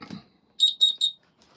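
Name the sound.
homemade electronic buzzer sounding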